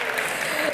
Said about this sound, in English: I don't know if that deserved applause, but I'll take it.